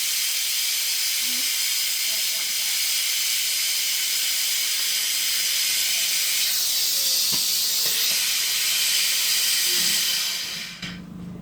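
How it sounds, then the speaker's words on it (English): A hoist holding a Suzuki DR200S motorcycle is let down with a loud, steady hiss of released air that runs for about ten seconds before cutting off abruptly. "And then you can let the hoist down"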